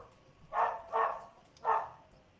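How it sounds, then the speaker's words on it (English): Three loud, separate barks from neighbouring dogs, evenly spaced about a second apart and standing out clearly against a quiet background. "Neighbors' dogs are all fucking barking and shit."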